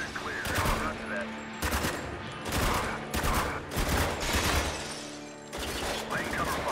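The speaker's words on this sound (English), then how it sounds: "Laying cover fire." Heavy automatic gunfire in a Spec Ops: The Line firefight, loud and near, with dense overlapping bursts of shots rattling almost without pause across the whole stretch.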